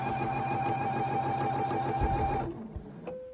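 A sewing machine stitches fabric at a steady, fast mechanical rhythm, running loud and close for over two seconds before stopping abruptly, followed by brief handling clatter and a short tone.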